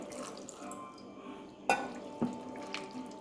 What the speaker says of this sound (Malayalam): ഇനി നമുക്കിതിന് വേണ്ടുന്ന ഉപ്പിടണം സ്പൂൺ ഉപ്പിട്ടിട്ടുണ്ട് പിന്നെ ഈ മട്ടൻ വേവാൻ പാകത്തിന് വെള്ളം ഒഴിക്കാം